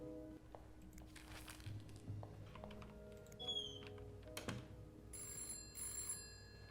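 Electronic telephone ring in the horror video game This Bed We Made, a short high trill joined later by a longer, steady ringing tone, heard over a busy game ambience with low hum and light tapping clicks.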